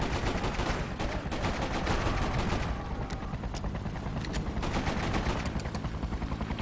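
Rapid video-game gunfire from Freedom Fighters, PC re-release: dense, loud bursts of overlapping shots crackle continuously, with a brief dip in intensity midway before the firing picks back up.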